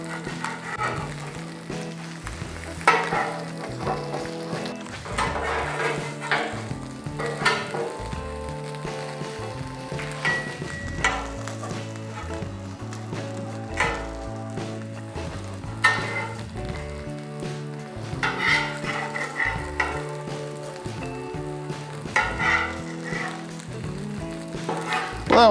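Eggs frying in a pan for breakfast sandwiches give a steady, soft sizzle beneath louder melodic background music that runs throughout.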